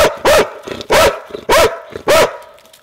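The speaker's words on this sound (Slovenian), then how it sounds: "Pes, ko pride do uplenjenega kosa, bo ali lajal." A tracking dog at a found kill of game barks loudly and close, four sharp barks in a steady rhythm with softer yips and whines between them.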